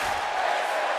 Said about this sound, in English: The crowd verbally getting behind Kaito RK